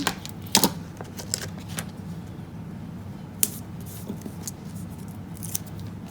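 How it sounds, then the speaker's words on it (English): Scissors cut small pieces of card for a handmade card, giving a few sharp, scattered snips close by over quiet background noise. "I'm just going to cut some bones for that one."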